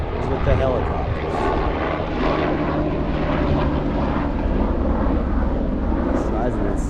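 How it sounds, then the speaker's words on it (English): A steady helicopter engine drone passing overhead fills the whole stretch with a constant rumbling roar over wind and outdoor noise at a Los Angeles cemetery. "What's with the helicopter?"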